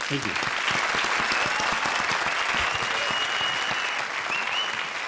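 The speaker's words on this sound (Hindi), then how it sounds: "तो जोरदार तालियां प्रिंस और वीआईपी के लिए" Vigorous applause from a comedy show studio audience for two performers, a loud continuous burst of clapping with a few cheers mixed in.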